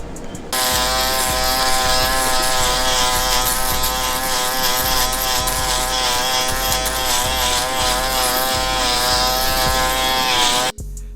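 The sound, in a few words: electric shaver shaving a head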